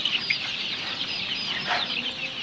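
Desi and sonali chickens mixed together on a poultry farm give a continuous chorus of clucking and chirping, close by, with a couple of louder calls rising over the flock.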